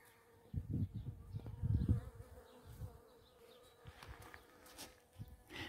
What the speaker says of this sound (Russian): А, смотри, пчелки работают.